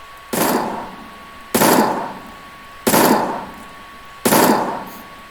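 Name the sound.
assault rifle gunfire in video game GC2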